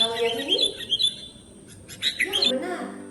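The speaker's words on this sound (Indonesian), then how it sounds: "itu adalah suara kicauan burung" Birds chirp and warble in a bright, busy stream of high tweets and trills, fairly loud and close, with sharp chirps bunching near the start and again toward the end.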